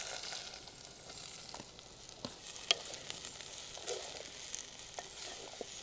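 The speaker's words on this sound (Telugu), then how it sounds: "ఉల్లిపాయలు వేసేసుకుందాం." Onions frying in hot oil with tempering seeds for a brinjal and dry prawn curry, a soft steady sizzle at close range with occasional crackles and stirring clicks.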